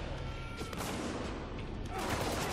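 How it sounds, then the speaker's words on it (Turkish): Shotgun blasts in the war shooter Spec Ops: The Line, set in a shopping mall, booming in a few loud bursts over dense continuous game noise. "Ah, pompalı tüfek."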